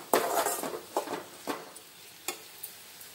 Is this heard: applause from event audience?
no